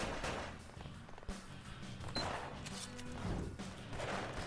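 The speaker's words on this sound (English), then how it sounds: "Throwing grenades around?" Grenades exploding during a player-versus-player match in the video game Gunz: dense, continuous bursts of blasts and gunfire-like bangs with several sharp impacts, loud and chaotic throughout with no break.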